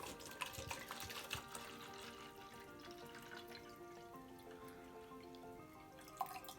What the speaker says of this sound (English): we're going to fill it up about halfway with our water